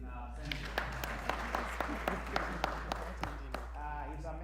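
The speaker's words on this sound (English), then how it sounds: "let's clap for him in our center" Applause from an audience at a men's mental health and wellness gathering, a steady patter of clapping lasting several seconds over a constant low hum, with short sharper claps standing out.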